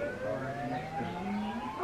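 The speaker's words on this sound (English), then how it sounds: "It is the first of the month, so the sirens go off as testing." A civil defense siren wails steadily in the distance during its monthly test, its tone rising slowly, with faint traffic rumble underneath.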